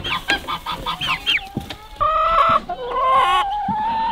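A rooster clucks and crows nearby in a rapid series of short calls, followed by longer, drawn-out vocalizations.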